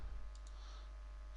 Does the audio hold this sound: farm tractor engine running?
no